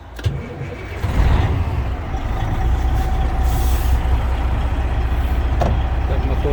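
The engine of a 2004 Freightliner Century truck cranks and catches, then settles into a loud, steady rumbling idle up close, with a brief hiss partway through.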